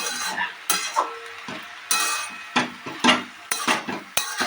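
Cumin and coriander powder get stirred into vegetables frying in a pan, with repeated scraping strokes of a utensil against the metal over a low background sizzle, close and fairly loud.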